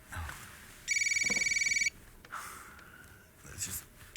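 A phone rings once, a loud electronic ringtone trilling rapidly for about a second. Soft breathing and faint noises surround it.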